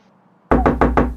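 Repeated knocking in an animated Sundanese gaming scene: four loud, close, hollow knocks in quick even succession after a brief quiet stretch.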